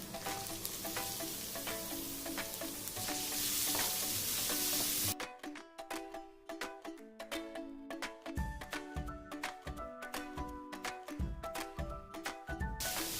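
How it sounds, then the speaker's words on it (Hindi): Finely chopped onion frying in oil for dal tadka sizzles loudly and evenly at first, then a sharp cut leads to rhythmic close stirring scrapes and clinks over a quieter sizzle, no talking. "प्याज को हम मीडियम गैस पे भूनेंगे और जब तक कि लाइट ब्राउन नहीं हो जाती है"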